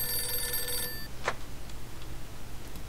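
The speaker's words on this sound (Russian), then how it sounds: "Ой, мне звонят" A telephone bell rings in the video game Mafia II, a bright metallic trill lasting about a second followed by a short echoing ring, close and clear over a low background hum.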